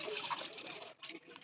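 Water runs from a weak tap as someone washes their face, a soft, close splashing and trickle that briefly dips midway.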